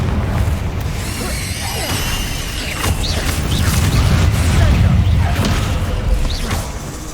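Fiery Confringo spell blasts in Hogwarts Legacy on PS5, a dense run of booming bursts, crashes and whooshes layered over continuous game sound, loud and sustained with no pauses.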